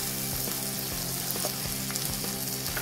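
Frozen green peas go into a pan of frying vermicelli upma, a steady close sizzle with soft crackles and a few light stirring taps running throughout.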